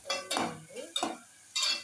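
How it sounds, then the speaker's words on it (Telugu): A tomato, onion and chicken mixture is stirred in a pan, with a few close, scraping strokes of a spoon in a quick, uneven rhythm and a faint sizzle between them. "మొత్తం కలపాలి."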